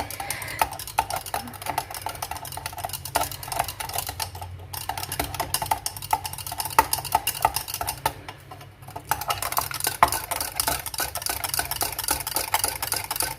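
Homemade aloe vera shampoo scented with rose and jasmine being stirred: a steady, busy stream of fast clicking and scraping against the container, close and continuous with two short pauses.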